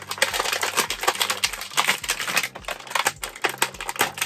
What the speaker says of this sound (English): It's the crumpling of the plastic to get the figure out.